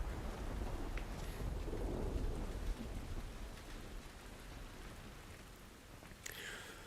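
Steady rain falls across a dark outdoor area in The Last of Us Part I, a dense continuous hiss with low rumbling underneath that eases slightly midway. A brief brighter splash rises near the end, and no one speaks.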